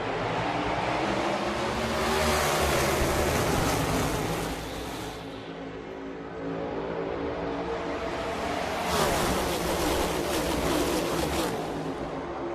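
A pack of NASCAR stock cars roaring off at the green flag at Las Vegas, a loud sustained wall of engine noise swelling, dipping briefly, then surging again as the field accelerates together.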